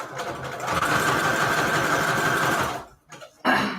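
A sewing machine stitches paper strips in a rapid continuous whir for nearly three seconds, close and fairly loud, then stops and gives a couple of short bursts of stitching.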